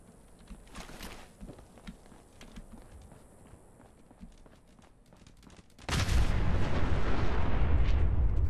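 A sudden, loud explosion in the video game Fallout 4 bursts in near the end and becomes a sustained roar, following quieter in-game footsteps and ambient sound.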